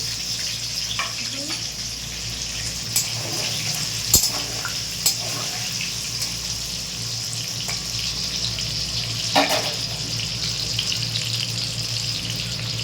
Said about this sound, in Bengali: তো এবার আলুগুলো ভাজতে দিয়ে দিচ্ছি।